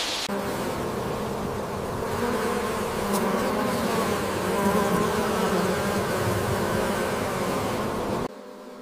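Dense, steady buzzing of many bees fills the scene, a continuous close hum with no voices.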